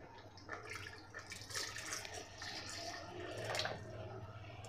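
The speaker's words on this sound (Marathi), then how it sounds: "आता यामध्ये घालायचं आहे आपल्याला गरम पाणी" Hot water streams into a pan of drumstick pod curry, a soft continuous pour with light splashing and trickling, close and fairly quiet.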